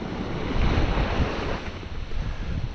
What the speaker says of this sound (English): I'm hoping this is the last big wave just went by.